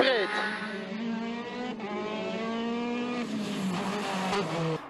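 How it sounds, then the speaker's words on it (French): A powerful Porsche rally car at the TAC Rally races past, its engine screaming through rising and falling gear changes, loud and close, while a commentator talks over it. "Voici Jochen Klarout avec sa Porsche très puissante"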